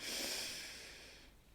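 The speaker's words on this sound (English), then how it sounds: "So just taking some nice deep breaths in" A slow, close breath drawn in through the nose, a soft airy hiss that fades away near the end.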